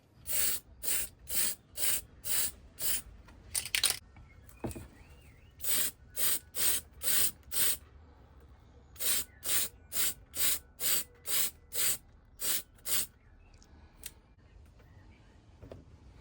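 Gunmetal Tamiya PS spray paint hisses from an aerosol can onto an RC Ford Raptor body shell in a long run of short, evenly spaced bursts, each about half a second, close and fairly loud with brief pauses between groups.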